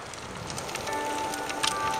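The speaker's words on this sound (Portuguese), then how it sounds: "Vambora que tem chuva. Vambora que tá chovendo." Soft, steady rain patters continuously with scattered droplet ticks in the open-world survival video game New Dawn, a gentle wash of noise with a faint tone underneath.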